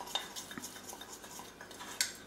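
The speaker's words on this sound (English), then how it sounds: "And then just stir all that together to make a paste." Roast juices being stirred into a thick gravy paste in a pan, heard as soft scraping of a spoon with light metallic clinks and a sharper tap near the end, quiet and close.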